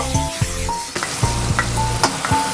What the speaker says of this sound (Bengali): পনিরটা তো ভাজা হয়ে গেল